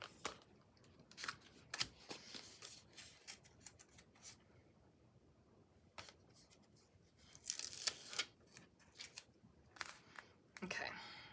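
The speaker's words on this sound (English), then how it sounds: "Scissors." Scissors snip through blue craft foam in short, quiet, irregular cuts and crunches close by, with a voice talking softly at times.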